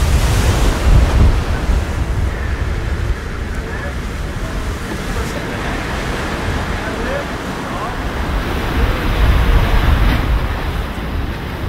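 Strong wind and heavy waves at sea off Shetland aboard a sailing Viking ship: a loud continuous roar of wind buffeting the microphone over rushing, surging water, steady throughout.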